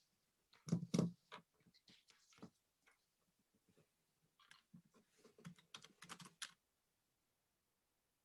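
Quiet, close bursts of typing on a computer keyboard: a short cluster of keystrokes, a pause, then another run of rapid clicks before silence.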